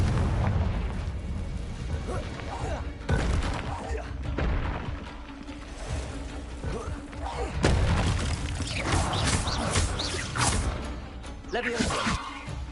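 Confringo blasting spells going off in a Harry Potter Hogwarts video game, with repeated loud booming explosions and rumbling bursts throughout, several big blasts standing out over a dense background of game noise.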